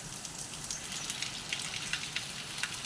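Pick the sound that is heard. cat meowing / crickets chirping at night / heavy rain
heavy rain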